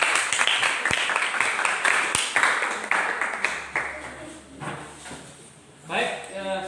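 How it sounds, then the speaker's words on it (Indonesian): Classmates clap for a group that has just finished presenting, a burst of close, crisp applause that thins out and fades over a few seconds while voices talk over it. "Tepuk tangan buat"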